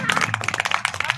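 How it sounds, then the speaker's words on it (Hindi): Children clap together at a devotional gathering in a quick, uneven burst of sharp claps lasting about a second, close by and fairly loud. "तालियां और जोर से बजाइए।"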